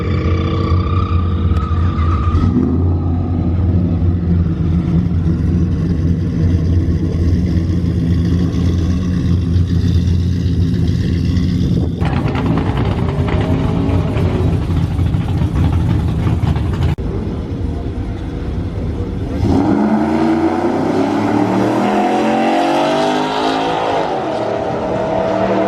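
A car launches hard down a drag strip on a track day. The engine roars loud and close, and the note changes sharply several times as it works through the gears across a long, sustained run.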